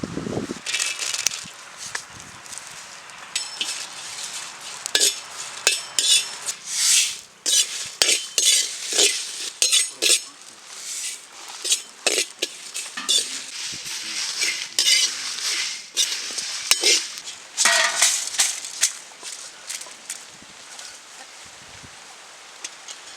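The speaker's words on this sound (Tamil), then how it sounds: "மீன் குழம்புக்கு தேவையான மசாலாவை வறுத்து எடுத்துக்கலானோ" Spice masala for fish curry is roasted in a pan, with irregular scraping and stirring clatters of a utensil against metal, close and fairly loud, with faint sizzling between strokes.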